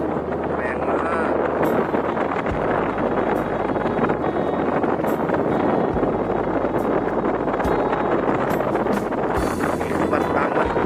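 Strong wind buffets the microphone at a riverside ferry pier at Wat Bang Nam Phueng Nok, a steady loud rumble with low thumps and water-side boat noise, while someone talks over it throughout.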